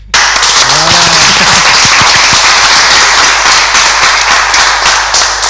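Dense, loud clapping from an audience at a school entrepreneurship event, steady and close from start to finish with no talk.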